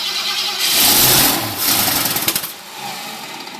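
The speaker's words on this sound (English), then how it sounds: "We just sprayed some starting fluid in the motor. It does start." A 1969 Ford Fairlane 500 engine, primed with starting fluid, cranks and catches close by, sputtering into a rough rising run, then settling to a lower idle, with no talk.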